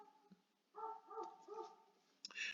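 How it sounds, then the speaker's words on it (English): Dogs bark outside, muffled and distant through a wall, a few short yelping barks rising and falling over a quiet room background. "I got dogs barking outside."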